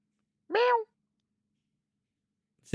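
A person imitates a short cat meow with their voice, a single brief rising-falling mew in a quiet room, followed by silence and the start of speech at the end.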